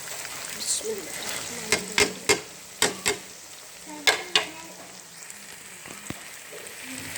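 Vegetables go into a hot pan for chicken vegetable macaroni and sizzle steadily, while a spoon stirs them with a series of crisp clacks and scrapes against the pan, close and fairly loud.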